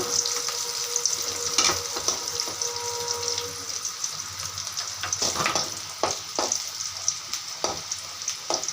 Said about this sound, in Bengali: পেঁয়াজটাকে লাল করে ভাজা হয়ে যাচ্ছে